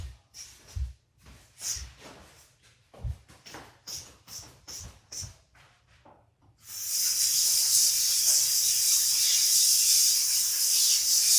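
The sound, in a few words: water running while washing hands at a sink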